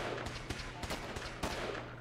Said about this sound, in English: I heard the fire of what sounded to be energy weapons and loud explosions